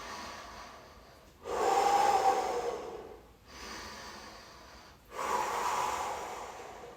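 Slow, heavy breaths during a beginner yoga core-strengthening exercise, each long inhale and exhale close and clearly audible, three drawn-out breaths alone with no talking.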